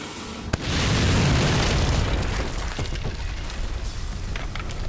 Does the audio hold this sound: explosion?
yes